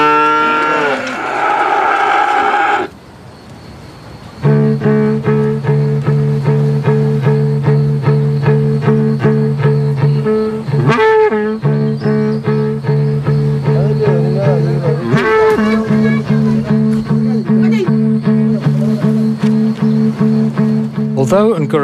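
Cattle at a cattle post moo loudly and repeatedly, long sustained lowing calls close to the listener, one after another with brief gaps.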